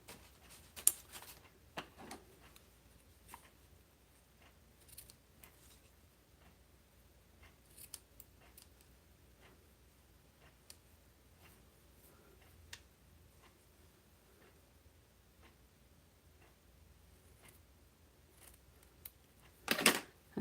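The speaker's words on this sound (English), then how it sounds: "That's a challenge without my ribbon scissors here." Scissors snipping ribbon in a quiet craft room, with scattered crisp clicks and short cuts spread across the scene and a brief louder burst of snipping at the end, without voices.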